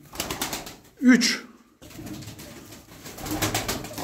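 Sütbeyaz play pigeons coo nearby in a loft, soft throaty calls mixed with a brief flutter, while someone speaks over them.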